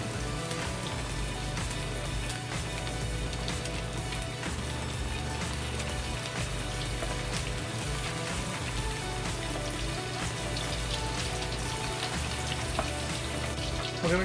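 Pork ribs deep frying in very hot oil for garlic fried ribs, a dense, steady crackling sizzle that runs unbroken at even loudness the whole way through, with no talking.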